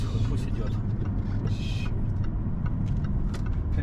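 A supercharged 3.0-litre V6 engine in a 2015 Jaguar XJL hums steadily and loudly up close, with a brief higher whine partway through.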